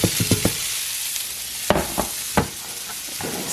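Bacon fries in a heated pan sprayed with Pam, sizzling loudly and close, broken by sharp clacks and scrapes as the strips are moved and stirred.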